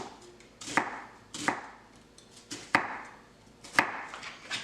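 A kitchen knife dices onion on a cutting board for chicken noodle soup, with five crisp, evenly spaced chops ringing out close and clear against a quiet background.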